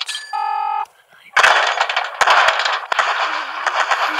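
Rapid automatic cannon and machine-gun fire in the World of Tanks video game, loud dense bursts of shots following a brief electronic chime, continuing almost without pause.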